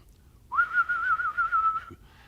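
A man performs a warble whistle: a single clear, fluttering whistled note trills steadily for just over a second, loud and close, against a quiet background.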